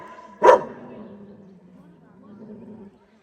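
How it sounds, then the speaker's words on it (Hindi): A single sharp dog bark rings out nearby in a village in Tehri Garhwal, followed by a low, faint rumbling background that trails off. "अय्यो भौंक क्या रहा है"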